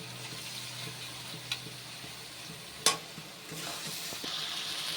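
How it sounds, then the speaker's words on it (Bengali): A ground paste of onion, garlic and dry red chillies sizzles and fries in a pan for mutton tengri soup, with a steady hiss, a few soft stirring clicks and one sharp clatter midway. "সেই বাটা মশলাটা এবার এর মধ্যে দিয়ে দিচ্ছি।"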